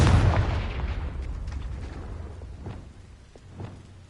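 A Confringo blasting spell explodes in Hogwarts Legacy, a loud booming burst at the start that rolls into a long, decaying rumble with a few faint crackles and thuds trailing off.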